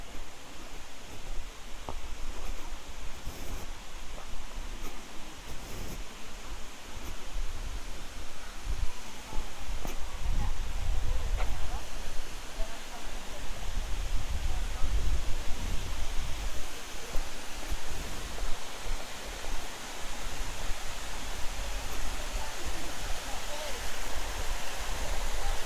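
Bua Tong waterfall in Chiang Mai pours steadily, a dense, even rush of water that stays close and constant throughout with no pauses.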